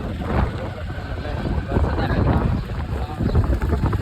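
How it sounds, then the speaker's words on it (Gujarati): Cold wind gusting steadily across an outdoor microphone, a constant low rumble and hiss that persists throughout, with no voices heard. "પવન તો ટાઢો આવે છે."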